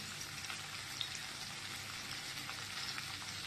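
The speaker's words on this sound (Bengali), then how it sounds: "ডাঁটাগুলোকে দিয়ে দিলাম তেলের মধ্যে, ডাঁটাগুলোকে একটু হালকা ভেজে নেব" Vegetable stems fry in hot oil with a dense, even hiss, like steady rain, that holds close and constant throughout.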